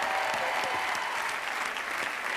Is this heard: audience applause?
yes